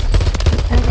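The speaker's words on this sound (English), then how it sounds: "he's shooting at me" Rapid automatic rifle fire from the Modern Warfare 3 video game, a dense burst of loud, close gunshots with a rattling rhythm filling the whole short moment.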